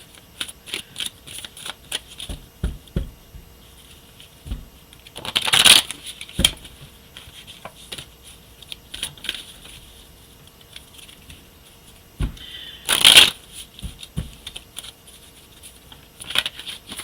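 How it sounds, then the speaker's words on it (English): A tarot deck is shuffled by hand in quick bursts of soft card riffles and taps, with two louder riffling flurries and quiet handling between them. "I'm just gonna give it a couple shuffles"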